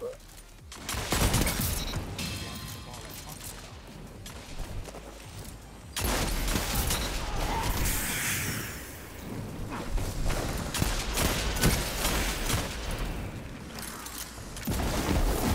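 Video game gunfire from a Hawkmoon hand cannon in Destiny, with loud, repeated heavy shots and booming impacts in a busy game mix while people talk over it.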